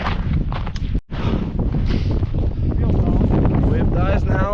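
Strong gusting wind buffets the microphone on a winter mountain hike in the White Mountains of New Hampshire, a constant loud roar with a brief cut near the start.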